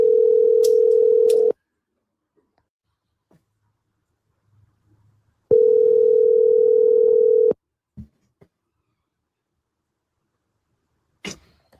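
A steady telephone tone from an unanswered call, loud and clean, sounding in two long blocks of about one and a half and two seconds separated by silence, with a few faint clicks and small noises afterward.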